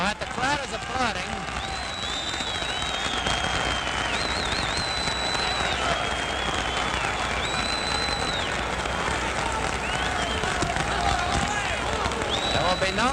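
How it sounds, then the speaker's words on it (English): Crowd at a boxing match applauding steadily throughout, a broad wash of clapping and cheering under a ringside commentator's continuous talk. "The crowd is applauding."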